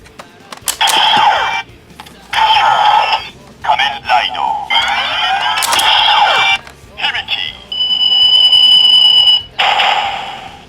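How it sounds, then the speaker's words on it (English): Decadriver toy belt from Kamen Rider Decade playing Hibiki's kabuki-style henshin noise: loud electronic chimes and bursts in choppy segments, ending in a sustained shrill tone, with no talking over it. "And that's his pretty awesome kabuki noise."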